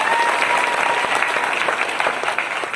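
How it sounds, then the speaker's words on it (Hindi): An audience claps loudly and steadily for a few seconds, a dense wash of applause at a seminar-style event. "जोरदार ताली होनी चाहिए।"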